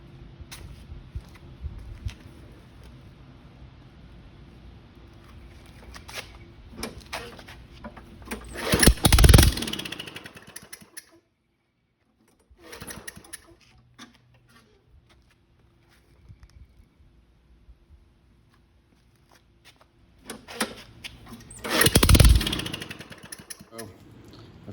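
A Toro small engine with its muffler removed sputters in two brief loud bursts, each coughing for a second or so before dying out, with quieter handling noises and gaps of near silence between attempts.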